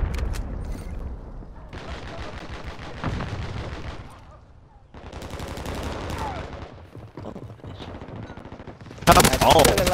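Gunfire in a shooter video game crackles in dense bursts of rapid automatic shots, loud and close, broken by short pauses and ending in a sharp blast, with a voice briefly underneath.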